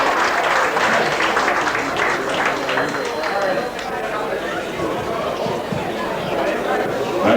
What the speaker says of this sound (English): give Charlie a nice big round of applause